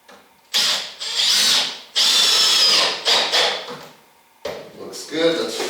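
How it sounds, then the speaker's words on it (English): A powerful electric drill drives screws into wood while a reloading bench is built, whirring in several loud, close bursts of a second or so each, separated by short pauses. "It's a very powerful drill. It has no problem putting these screws down into the wood."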